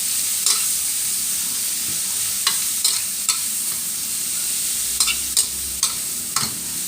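Minced pork with carrot, onion and peas being stir-fried in a pan, a steady low sizzle broken by several sharp spatula scrapes and taps against the pan, close and alone without talk.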